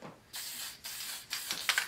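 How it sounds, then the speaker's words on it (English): Three short hissing bursts of an aerosol sealer spray can, light and close, separated by brief pauses, with a small clicking at the end. "Give it a really light spray."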